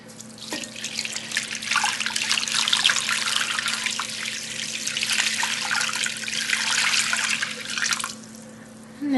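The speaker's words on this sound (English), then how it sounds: "And then poured all of my water on top there." Water pours steadily into a pot over salted pork, a continuous splashing gush for about eight seconds before it tapers off and stops, close and fairly loud with no talking.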